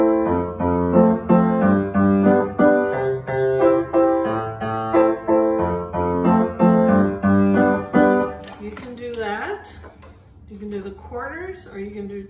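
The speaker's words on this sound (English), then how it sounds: "If I'm playing steady, even eighth notes, it sounds like this." Piano plays a secondo part in steady, even eighth-note chords for several seconds, then the playing stops and a voice speaks briefly.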